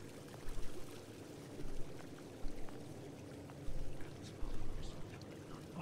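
Steady pouring and trickling water fills a flooded underwater space in the video game Bioshock Infinite: Burial at Sea, a continuous close wash with occasional low thumps rising through it.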